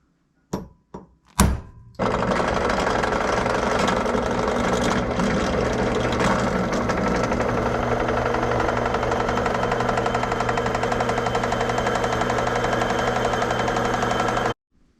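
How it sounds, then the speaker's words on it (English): A drill bores a hole through a steel shaft on a homemade sawmill: a few sharp knocks as it starts, then a loud, steady whirring grind that runs unbroken for about twelve seconds before stopping abruptly, with no talk. "hopefully be able to drill through this shaft"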